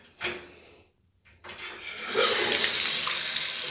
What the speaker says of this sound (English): Let's see if the water comes on in this one here.